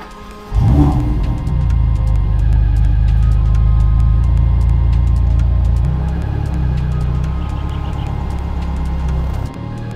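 A Ferrari Roma Spider's 3.9-liter V8 fires with a sharp burst, then holds a deep, steady drone at roughly constant revs before a brief shift near the end.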